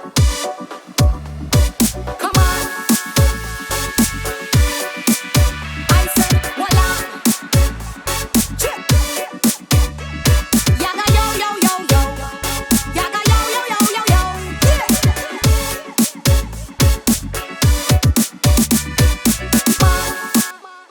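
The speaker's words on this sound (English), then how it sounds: "So the next part is where the main drum pattern kicks in, using the kick and snare I talked about just now." An electronic remix intro built in Ableton, with a driving kick-and-snare main drum pattern under dense synths, loud and continuous for about twenty seconds.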